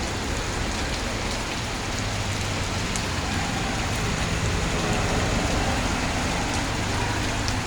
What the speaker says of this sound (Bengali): আরো বৃষ্টি পড়তেছে